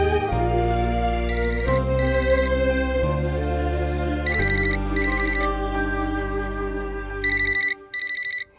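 A phone rings early in the morning with a loud, close melodic ringtone that repeats several times and ends in sharp electronic beeping bursts.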